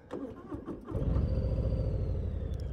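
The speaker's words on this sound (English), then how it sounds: "let's turn the engine back on" A 2021 Harley-Davidson Softail Slim motorcycle engine cranks briefly with a few clicks, then fires and settles into a loud, steady, deep rumbling idle close by.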